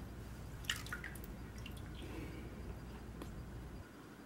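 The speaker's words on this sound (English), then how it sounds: "Come on, settle down, dirt. There you go and get rid of that dirty water." Dirty water drains and drips from a gold pan full of prospecting dirt, with a few close, quiet splashes and trickles early on and then softer dribbles.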